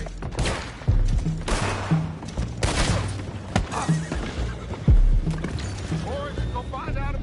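Horses in the Red Dead Redemption video game neigh and whinny amid shouting voices, water and boat sounds, with loud low thumps and scattered clip-clop under an agitated, busy game scene.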